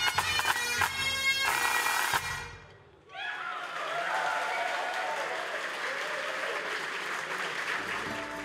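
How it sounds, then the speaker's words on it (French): Crowd at the close of the Islay whisky festival: a loud burst of applause and cheering gives way after a brief lull to a steady, fairly faint murmur of many voices. "La rumeur de la foule"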